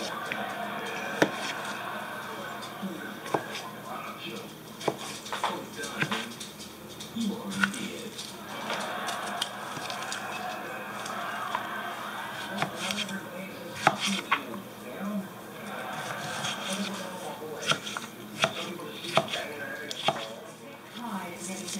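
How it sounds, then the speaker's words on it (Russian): Cucumbers are chopped with a knife on a board in quick uneven taps alongside occasional clinks of kitchenware, and a person talks at times. "Вот три огурчика порежу."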